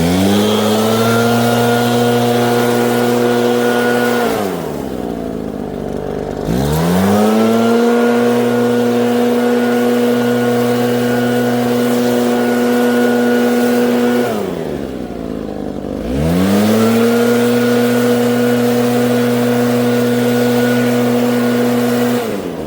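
A ProRun PBB2884 backpack leaf blower engine runs loud and close, holding a steady high drone that twice drops sharply to a low idle and then climbs back to full throttle.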